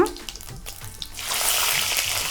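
Peanuts frying in hot oil with mustard seeds, cumin and curry leaves for Uttar Karnataka chitranna, a brief crackle building into a loud steady hiss in the second half, with a voice at the start.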